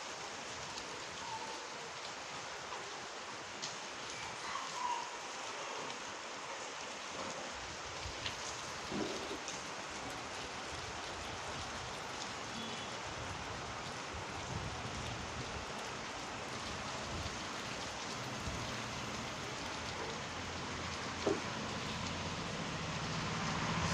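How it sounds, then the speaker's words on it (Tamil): Heavy rain in Chennai pours down in a steady, dense hiss, with scattered louder drips and splashes rising now and then over roughly twenty-four seconds and no voices. "நல்லா மழை பெய்யுது."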